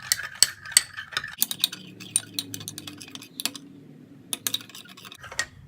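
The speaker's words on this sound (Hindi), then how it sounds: "इन सब चीज़ों को मिक्स करेंगे" A spoon scrapes and taps around a bowl as glycerin and coconut oil are stirred together, giving sharp irregular clicks and clinks over a low steady swirl, close and fairly quiet.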